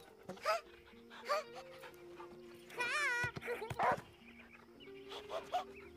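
Dog panting and small whimpers from a dog character in the video game Last Day of June, in short breathy bursts with game music tones underneath and someone talking over parts of it.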